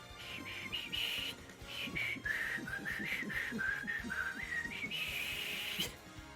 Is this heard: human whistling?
yes